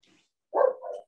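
A single dog bark, short and moderately loud, sounds from a room during an online meeting after near silence, followed by a brief softer yelp.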